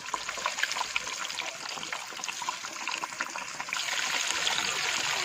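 Pieces of fish frying in hot mustard oil give a steady, bright sizzle and crackle, growing denser and louder partway through as a second piece goes into the pan, with no talking.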